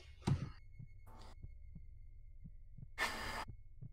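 Soft low heartbeat thumps pulse at a regular rhythm beneath a faint steady hum, interrupted by a couple of brief noisy bursts, with no voices.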